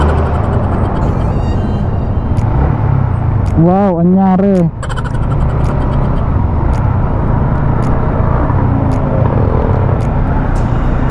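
Steady broadband hiss of car traffic rolling over a wet, slick road, heard from a motorcycle, with engine drone under it, one brief loud passing tone, and a short voice remark.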